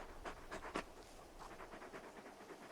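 Rapid breathy panting from the large wolfhound in Final Fantasy XVI, a few quick bursts then a steady softer rhythm, fairly quiet and alone with no talk.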